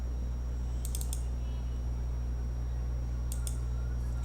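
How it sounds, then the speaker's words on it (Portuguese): A computer mouse double-clicks to open a file: two quick pairs of sharp, faint clicks against a steady low electrical hum, with no talking. "Se eu der 2 cliques, ele vai abrir"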